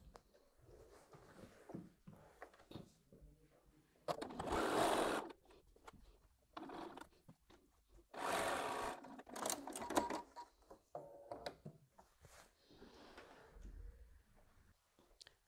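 A sewing machine stitches two layers of fabric sandwiched together for a flower-pot quilt block, running in bursts of rapid mechanical whirring broken by quieter pauses, with no talking.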